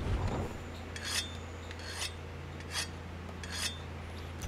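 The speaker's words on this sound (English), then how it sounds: "I just sharpened up my weapon." Weapon sharpening in the Monster Hunter video game: several short rasping whetstone strokes over a steady low hum, evenly spaced and fairly quiet, with no voices.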